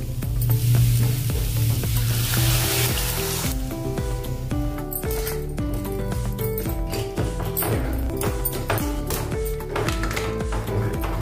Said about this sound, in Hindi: और अभी हम डालेंगे अपनी सब्जी जो हमने पालक की प्यूरी तैयार की थी, वो इसमें डाल देंगे